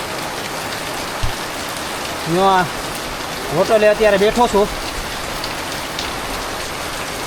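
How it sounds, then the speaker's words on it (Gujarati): Heavy monsoon rain falls at the Pavagadh hill temple, a loud steady wash of drops beating on surfaces, while someone speaks briefly over it. "એવો વરસાદ પડે છે ને કે વાત જ જવા દો તમે."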